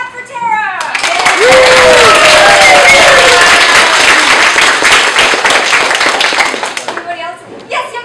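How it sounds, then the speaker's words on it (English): An audience at an animal advocacy event's vegan gameshow bursts into loud, sustained clapping and cheering for a young volunteer, filling the room for several seconds before tapering off, with a host's voice briefly heard at the start and end. "Clap for Tara!"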